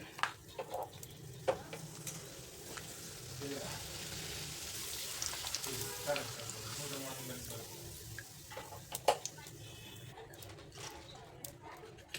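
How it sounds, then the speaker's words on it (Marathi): Papad frying in hot oil gives a quiet, continuous sizzle, with scattered clinks and scrapes of utensils and faint background noise. "कुरडाई झाली तळून आता पापड तळायचे"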